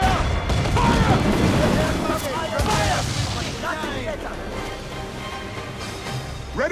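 Ship cannons booming in the Assassin's Creed Freedom Cry video game, a dense fusillade of heavy blasts amid sea and battle noise, with crew voices shouting over it.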